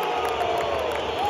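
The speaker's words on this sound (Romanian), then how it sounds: "Vin oaspeții, vin cei de la Kosovo, care sunt aplaudați în acest moment." Stadium crowd at a Romania versus Kosovo Euro 2024 qualifying football match applauding and cheering as the Kosovo team enters, a dense, loud continuous roar with brief sharper bursts.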